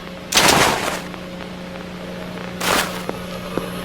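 Gunfire in the Roblox horror game Midnight Station: two loud broadband bursts about two seconds apart, each a short volley, over a steady low hum with faint clicks between.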